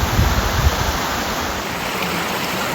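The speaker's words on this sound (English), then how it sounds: "Beautiful waterfall." Wailing Widow Falls, a waterfall on Scotland's north coast, sends up a constant hissing roar of falling water, steady and fairly close, with no voices.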